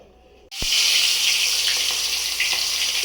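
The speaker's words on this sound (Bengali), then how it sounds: "এবার ওটাকে তেলের মধ্যে একটু মাথাগুলোকে আর মাছটাকে একটুখানি ভেজে নিই।" Fish heads and fish pieces, rubbed with salt and turmeric, hit hot oil after a brief quiet moment, bursting into a loud, steady sizzle and spatter that carries on to the end.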